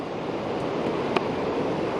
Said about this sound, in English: waves are still trying to calm down